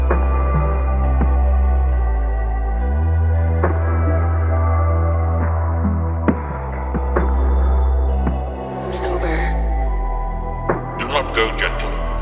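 A dark, bouncy, synth-based hip-hop beat, made in FL Studio, plays steadily with deep throbbing bass, sparse percussive hits and a bright synth swell near the end.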